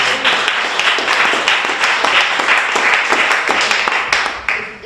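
Sustained audience applause fills a candidates forum at a public library, a dense steady patter of many hands clapping close by, fading slightly toward the end.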